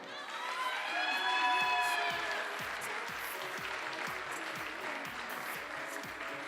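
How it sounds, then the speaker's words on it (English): Spectators applaud a 14-year-old finalist at a European Championship junior air pistol final. The clapping is brisk and fairly distant, with some cheering and whistling near the start, and it carries on steadily without speech. "please give a big round of applause"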